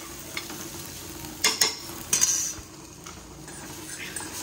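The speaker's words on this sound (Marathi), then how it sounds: "एवढीच आपल्याला अशी डाळ भाजून घ्यायची." Lentils dry-roasting in a pan on a home stove are stirred with a utensil, giving a steady soft scraping rustle with a few clinks against the pan around the middle.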